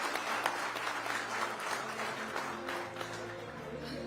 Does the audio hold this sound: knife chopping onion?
no